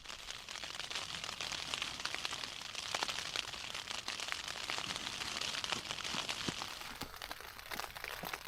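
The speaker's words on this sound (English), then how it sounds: "It was just a bit of hail there actually. Wasn't rain at all." Hail pattering on a Durston X-Dome tent during a storm with strong winds, a steady dense crackling patter with scattered sharper ticks, fairly quiet and continuous, with no voices.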